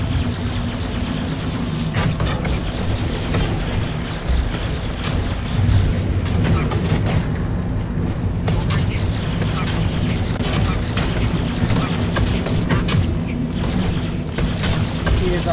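A spaceship in Star Citizen taking hits through its shields, a steady engine hum under repeated booming impacts and sharp bursts scattered across the stretch, with a voice talking over it.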